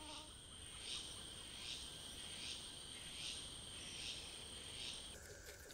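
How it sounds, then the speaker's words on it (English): Green insects in a forest buzz and chirp in a steady, continuous drone, pulsing about every second, fairly loud and close with no other sounds. "Green, buzzing bugs."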